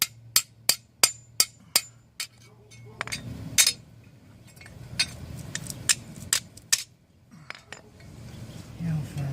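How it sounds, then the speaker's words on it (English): A hammer pounds a bent RV generator exhaust pipe back into place during a roadside repair: a quick run of sharp metallic blows, then scattered heavier strikes and clanks against background noise. "get the hammer and beat the shit out of it"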